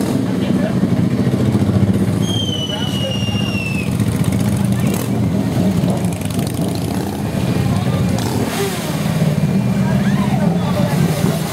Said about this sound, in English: Oh, here comes some bikes.